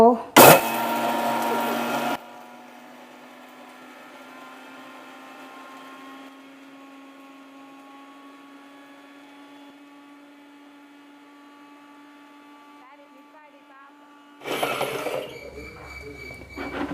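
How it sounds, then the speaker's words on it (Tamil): A mixer grinder roars in a loud burst while grinding rasam ingredients, drops to a low steady whine for several seconds, then surges loudly again near the end. "இப்போ நான் மிக்சியில் அடிக்கிறத பார்ப்போம்"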